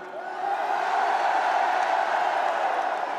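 A large crowd at Eric Zemmour's political rally at the Trocadéro cheers and roars in a steady, dense wash of voices that swells and holds for several seconds, with no single speaker standing out.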